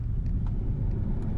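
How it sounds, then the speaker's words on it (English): A 2020 Tesla Model 3 Long Range on 18-inch Michelin Pilot Sport 4 tyres accelerates hard off the line, heard as a steady low road and tyre rumble from nearby without any engine note. "So Joe's accelerating hard off the line."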